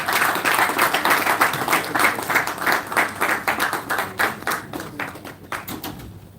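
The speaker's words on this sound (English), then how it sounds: "Can we give another round of applause for the publisher of Business Day Media Limited, Mr. Frank Ibu." A conference audience at a property investment and smart cities event applauds, a dense sustained clapping from a crowd that gradually thins and fades.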